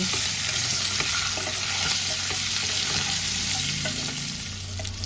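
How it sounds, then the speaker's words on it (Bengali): Duck eggs and chunks of potato fry in oil, producing a continuous close sizzle broken by repeated scraping stirs of a spatula. "আলুগুলো দিয়ে দিলাম আলুগুলো ডিমের সাথে একবারে ভেজে নেব"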